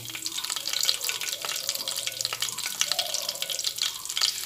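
Nigella seeds fry in hot mustard oil, giving a steady close sizzle with scattered small crackles and pops throughout.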